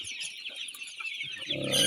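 Sonali chickens on a farm cluck in short, scattered calls that grow louder and busier toward the end, close by with no talking.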